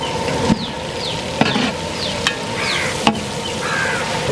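Green chillies fry in ghee and oil for mutton biryani, sizzling steadily at close range while a utensil scrapes and stirs the pan with a few sharp metallic taps.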